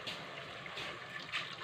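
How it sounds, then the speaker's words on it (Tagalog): Tap water trickling and splashing into a cooking pot of pork, a steady soft pour with brief brighter splashes, fairly faint and close, no voices. "Lagyan po natin ng tubig."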